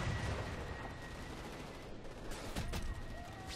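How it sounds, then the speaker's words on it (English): A gun turret in the Xbox 360 game Crackdown 2 fires steady bursts of gunfire with booming low rumble, and a few sharper, louder blasts land near the end. "That nearby gun turret would cut the enemy to ribbons"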